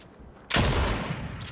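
A mythic assault rifle firing in Fortnite, with a sudden loud burst of rapid shots that starts about half a second in and holds steady to the end, with no talking over it.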